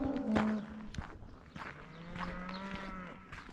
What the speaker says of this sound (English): Boy, you can hear those suckers mooing, can't you?